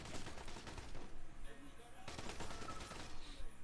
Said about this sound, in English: Oh, it's an auto sniper.